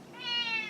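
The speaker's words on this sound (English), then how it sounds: "And that is my cat." A house cat gives one short, clear meow close by indoors, rising and holding briefly before fading, with no other sound around it.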